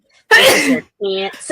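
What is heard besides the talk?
sneeze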